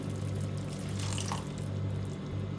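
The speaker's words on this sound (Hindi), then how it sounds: "2-3 टेबलस्पून पानी डालूंगी ताकि मसाले जले नहीं।" Water poured into spices frying in a pan for potato and spinach curry, a continuous close sizzling, bubbling hiss throughout, with no talking.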